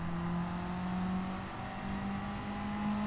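A race car engine in a racing video game holds a steady, droning whine that climbs slightly in pitch as it revs, loud and continuous with no talk.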